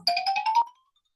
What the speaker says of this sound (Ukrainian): Ну, а це був звук ксилофона.